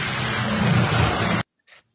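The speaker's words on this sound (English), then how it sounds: "It is raining." Steady broadband hiss of rain falling outdoors, loud and continuous for about a second and a half before cutting off abruptly, followed by a brief faint sound.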